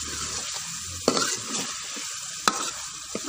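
Wadiyan stirred into a frying masala for an aloo wadiyan curry: continuous sizzle with a few sharp spoon scrapes and clacks against the pan, close and clear with no talking.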